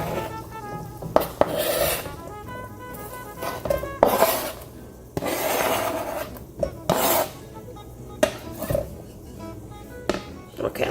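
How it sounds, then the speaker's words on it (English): Onions and garlic being stirred in a pan for shrimp scampi: a utensil scrapes and rasps against the pan in repeated strokes over a soft sizzle, close up. "let me go ahead and stir this up in here"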